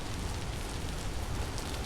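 Steady rain falls in the video game Vintage Story, a quiet, even hiss of drops on surfaces with no talk.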